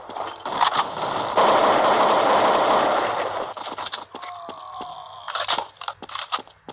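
Gunfire and a grenade blast in the mobile shooter game Crisis Action, with a loud sustained burst of rapid fire and explosion noise followed by sharper scattered shots and metallic clicks.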